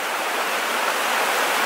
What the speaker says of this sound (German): Hier habe ich jetzt einen Bach, der geht jetzt aus zwei zusammen und dadurch haben wir jetzt ganz viele Stromschnellen